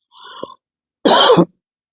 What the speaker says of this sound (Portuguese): essa tosse chata